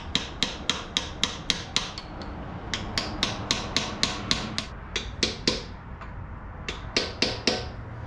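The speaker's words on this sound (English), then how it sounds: "Just tap it in until it bottoms out." A hammer taps a part into place during a Toyota 4Runner torque converter replacement, sharp metallic strikes in quick rhythmic bursts of several blows with short pauses between, close and clear.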